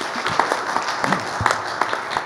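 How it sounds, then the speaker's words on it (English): A church congregation applauds, brisk mixed clapping from a moderate-sized crowd, fairly close and sustained through the whole moment. "a nice round of applause there"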